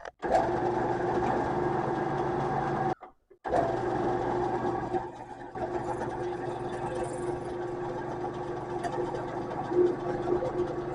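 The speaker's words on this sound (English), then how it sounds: "We're going to go through the holes to drill the bottom block, making the holes in the center identical to the blade." A drill whines steadily as it bores holes through taped-together knife scale blocks for a harpoon clip knife. The loud, even motor drone cuts out briefly near the three-second mark, then starts again and runs on without speech.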